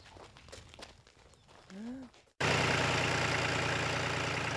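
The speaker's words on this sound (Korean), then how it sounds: "능숙한 솜씨로 트랙터에 시동을 거는 윤익상 목사는" A farm tractor's engine cranks and catches abruptly, settling into a loud, steady, rumbling idle close by after a quieter stretch of footsteps and a short voice.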